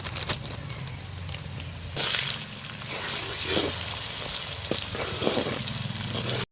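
Eggs frying in a pan over lightly fried onion, a steady soft sizzle and crackle, close and moderately quiet, growing slightly busier partway through with occasional small pops.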